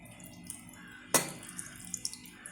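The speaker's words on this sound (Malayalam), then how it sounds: "ഈ പുളി എടുത്ത് വെച്ചിരുന്നല്ലോ ഞാൻ, അത് നന്നായിട്ട് ചൂടുവെള്ളത്തിനകത്തിട്ട് കലക്കി വെച്ചിട്ട് പെട്ടെന്ന് കലങ്ങാൻ വേണ്ടി അത് നമുക്ക് ഇതിലോട്ട് ഒഴിച്ചെടുക്കാം" Tamarind water, soaked and mixed in hot water, is poured into a pan of snake gourd chutney in a home kitchen: one short close splash, then a few faint drips.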